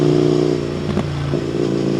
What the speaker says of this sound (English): picks up this exhaust note, because the exhaust note after you remove the tips is actually incredible